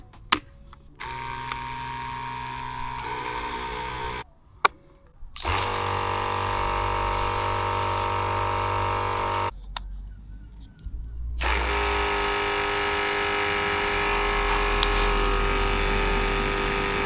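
An ITEHIL portable vanlife shower pump runs with water spraying out: a steady loud rushing spray and hum in long sections, separated by brief pauses and clicks as it is switched off and on.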